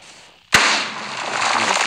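A TNT cannon in Minecraft, built as a villager mortar, fires with one sharp, loud blast, followed by a sustained hissing roar of debris that carries on after the bang.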